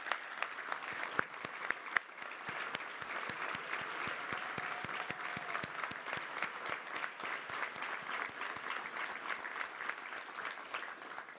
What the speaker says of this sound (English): let's give them a round of applause for raising great young people